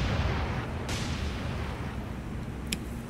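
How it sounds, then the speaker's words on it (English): Anti-aircraft guns fire in the naval combat game War on the Sea, a dense, continuous rumble of rapid gunfire with a sharp crack near the middle and brief bright pops late on, with no talking. "someone just starts unloading with aircraft, anti-aircraft guns."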